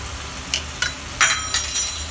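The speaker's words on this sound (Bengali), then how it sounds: "ঘিটা দিয়ে ভালো করে নেড়ে চেড়ে" Ghee stirred in a pan for egg bhujia: a faint sizzle under a few sharp metallic clinks and scrapes of a spoon against the pan, close and fairly loud.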